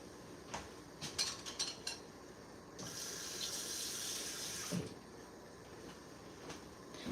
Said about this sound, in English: I'm going to put it in a bowl and put some cold water in it so it can cool down